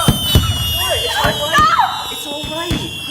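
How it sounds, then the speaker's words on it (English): Firecracker sound effect from a Concord High School stage performance: several sharp pops and bangs scattered across a few seconds, loud and close, over stage noise and an ongoing voice. "Honey, it's just the kids playing with some firecrackers."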